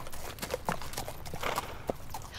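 Horse hooves clip-clop along a trail in a steady walking rhythm, with clear, moderately close hoof strikes over a soft outdoor background and no speech.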